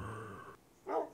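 A pet puppy in a survival video game gives a single sharp bark near the end, following a steady droning tone that cuts off abruptly, all fairly close and without any talking.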